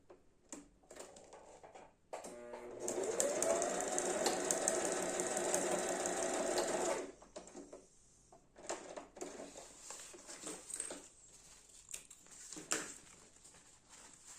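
A household sewing machine stitches fabric for a basic zippered toiletry pouch, a loud steady mechanical run lasting several seconds after a few short starts, then stopping as quieter handling clicks and rustles follow.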